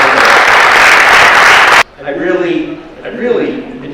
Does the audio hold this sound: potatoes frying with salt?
no